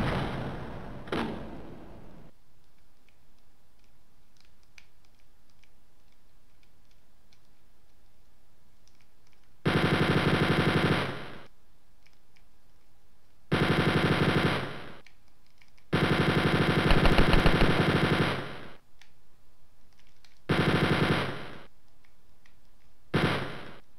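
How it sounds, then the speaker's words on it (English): A chain gun fires at the episode boss in the Wolfenstein 3D PC game, with loud sustained bursts of rapid gunfire separated by quieter gaps of low game ambience. "I think I'll use the chain gun on him."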